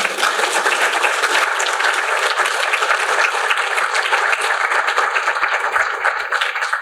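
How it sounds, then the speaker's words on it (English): Sustained, dense applause from an audience honoring the Muskogee Nation Honor Guard at a writers' award ceremony, steady and loud throughout with no voices over it. "So let's give the Muskogee Nation Honor Guard another big round of applause."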